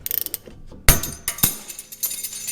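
Ratchet wrench cranking a 17 mm bolt on the front suspension of a 2002 Toyota 4Runner during upper control arm work, giving a quick run of close clicks, then sharper metallic clacks and clicks at close range.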